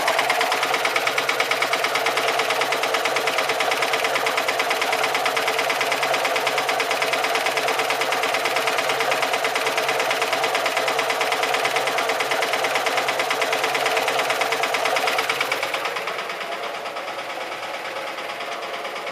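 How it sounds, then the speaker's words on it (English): A small pump motor on a tiller repair job runs steadily with a rapid mechanical wobble and rattle, loud and close, before dropping to a quieter hum near the end. "A little bit bigger pump would be nice, I guess, but a lot of wobble in that motor."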